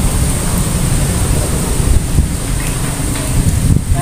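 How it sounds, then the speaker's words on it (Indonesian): Strong wind blows outdoors beside a giant tree, hitting the microphone as a loud, steady, buffeting roar that lasts throughout. "Angin yang sangat besar itu."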